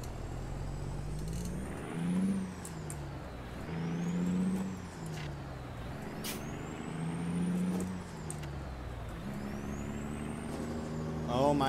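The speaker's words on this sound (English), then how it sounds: "And now we're going to be stuck in Bakersfield traffic for 10 years." Road traffic in American Truck Simulator around Bakersfield, with heavy trucks rumbling and rising and falling through several engine surges, plus faint high whines and the hiss of air brakes in a steady, continuous mix.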